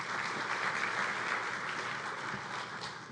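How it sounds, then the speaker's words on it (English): Sustained audience applause at the closing of the NICE Conference and Expo 2023, a dense, steady wash of clapping hands filling the room at even loudness throughout without a break. "One more round of applause for Lynn."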